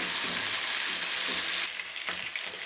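Curry leaves and green chillies fry in hot oil with a steady, close hiss of sizzling and a faint stir partway through.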